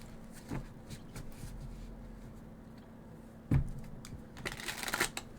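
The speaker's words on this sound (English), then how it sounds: "Let me start shuffling already for your cards" Short crisp riffles of cards being shuffled, a few scattered bursts followed by a denser flurry near the end, close and quiet.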